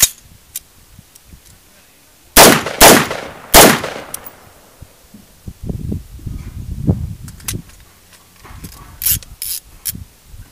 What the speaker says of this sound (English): we're going to do a unsuppressed and suppressed sound of a Noveske Switchblock midlength with PMC 556